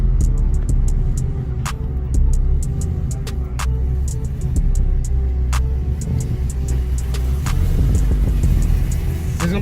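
Supercharged Chevrolet Caprice in performance mode pulling hard, a loud steady low engine rumble and drone running the whole time with sharp clicks and ticks above it, no talk.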